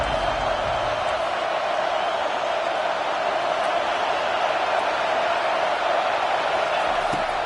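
College football stadium crowd at an FSU vs Florida game roaring steadily on a third-down play, a dense, loud, sustained wash of cheering that holds without a break.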